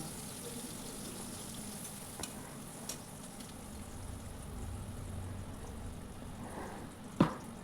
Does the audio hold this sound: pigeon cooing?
no